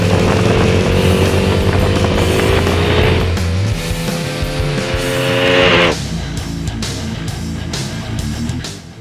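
A KTM RC 390 sport motorcycle engine revs loud and close, its pitch sweeping up and down through several throttle blips before settling into a lower, rougher idle.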